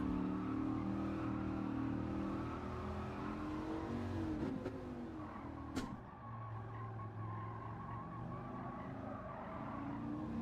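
A race car engine in Gran Turismo 7 drones steadily at high revs, dipping and climbing with throttle changes, with a brief sharp shift near the middle before the engine settles back into its continuous roar.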